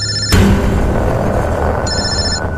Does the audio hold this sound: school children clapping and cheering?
no